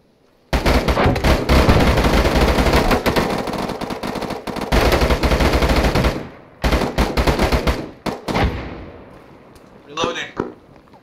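Heavy automatic gunfire rattles in a military video game on a public server, loud sustained bursts that break off, then resume as scattered shorter volleys, with voices talking between shots.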